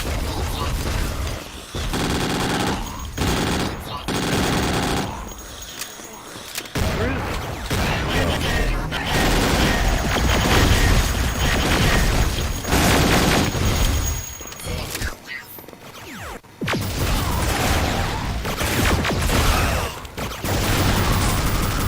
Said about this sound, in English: Using the rocket launcher at an appropriate time.